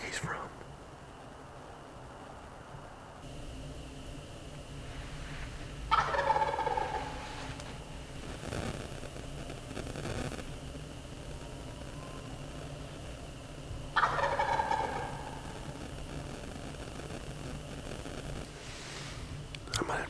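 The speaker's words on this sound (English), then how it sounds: "Birds gobbling." Wild turkeys gobbling on pressured public land during a Mississippi turkey hunt, two loud bursts some seconds apart over a quiet outdoor background with low whispering.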